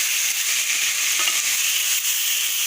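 Chopped banana flower frying with spices in a pan for a Bengali mochar ghonto, a steady hissing sizzle with a couple of soft scrapes from stirring, close and constant with no talking.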